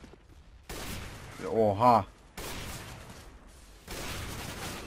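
AWP sniper rifle shots in Counter-Strike: Global Offensive, a few loud, broadband blasts with reverberant tails separated by brief gaps, while a man exclaims in the middle.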